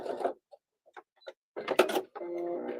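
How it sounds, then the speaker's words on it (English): A sewing machine backstitching a seam in a home sewing studio, heard in short bursts and then a steady, close whirring run at the end, with brief sounds between the bursts. "I am going to backstitch."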